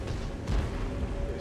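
A single deep tank-cannon boom from World of Tanks, where the player drives the AMX 50 100, lands near the middle amid continuous low rumbling battle noise.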